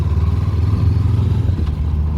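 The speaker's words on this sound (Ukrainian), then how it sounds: "ось цей мотоцикл от Honda дарує тільки приємні емоції" A Honda CB400X motorcycle on the move gives a steady, loud low engine drone with rumbling road and wind noise, heard from the rider's position with no talk.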